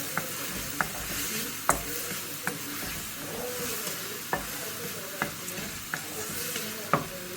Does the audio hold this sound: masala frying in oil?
yes